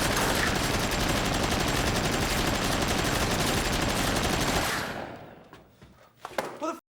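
Sustained automatic gunfire from a gun in a crime heist film scene, loud and continuous for several seconds before cutting off, followed by a few fainter sounds.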